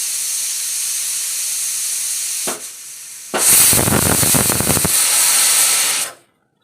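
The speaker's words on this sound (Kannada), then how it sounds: "ವಿಷಲನ್ನು ಹೊಡ್ಸ್ಕೊಳ್ಳೋಣಂತೆ." A pressure cooker on the stove cooking dal lets off a loud, close steam whistle: a brief hiss, then a long sputtering rush of steam before it cuts off abruptly.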